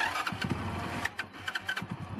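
A motorbike converted to run on gas fed from a bottle cranks and sputters into life, with quiet, uneven pops and clicks over a low engine rumble, heard close with no talking.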